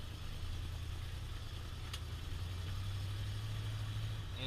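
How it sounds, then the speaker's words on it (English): An old truck engine with a 4-barrel carburetor idles with a steady low rumble throughout, heard from inside the cab with no talking. "Runs like an old truck, drives like an old truck, shakes. It's got an old truck sound to it."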